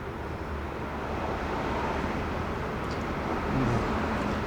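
Broadband roar of passing cars outdoors, a continuous rushing wash that swells slightly toward the end, with a faint tonal hum near the close.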